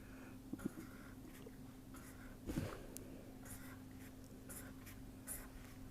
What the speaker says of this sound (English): I am arbitrarily drawing it.